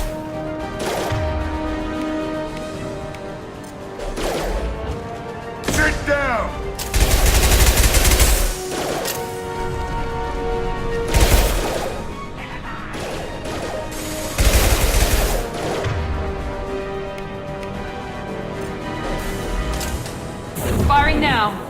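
Repeated bursts of gunfire from a Mass Effect 2 firefight, loud broadband volleys recurring every few seconds over a steady game score, with voices talking between shots.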